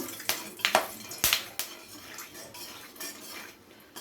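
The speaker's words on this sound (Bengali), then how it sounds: "ফোড়নটাকে একটু হালকা নাড়াচাড়া করে ভেজে নেব।" Whole spices, bay leaf, cardamom, clove and cinnamon, stirred in a pan with a utensil that clinks and scrapes against the metal several times, with a light sizzle of frying underneath.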